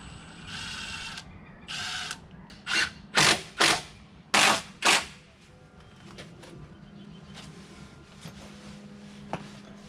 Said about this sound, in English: And I'm toe screwing.